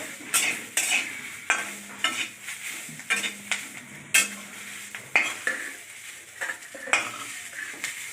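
Moringa leaves frying in a pan, a soft sizzle under repeated stirring, with sharp scrapes and clinks of a utensil against the metal pan at an uneven rhythm.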